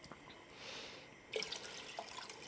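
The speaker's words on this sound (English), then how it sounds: "All right, in goes the broth." Chicken broth poured into a soup pot for lentil soup, a soft liquid splash and trickle that starts partway through, close and moderately loud.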